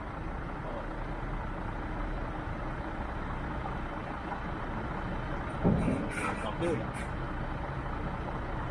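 A truck maneuvering to park at a loading site, heard as a steady low engine rumble running throughout, with a couple of brief louder knocks near the end.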